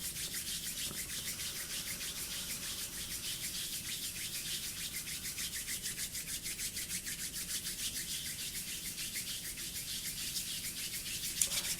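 Palms rubbing together fast, a steady close brushing swish with a quick regular back-and-forth rhythm that holds for the whole stretch without pause or voices.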